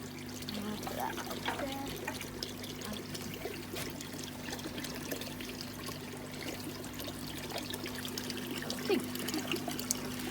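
Fish are released by hand into garden pond water, giving soft, continuous trickling and small splashes close by against a low steady hum.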